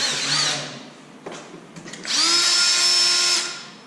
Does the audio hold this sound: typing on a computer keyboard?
no